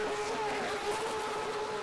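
Race car engine from a racing sim game running Yoryi's mod, a steady droning tone held at near-constant revs for the whole stretch, moderately loud with no voices over it.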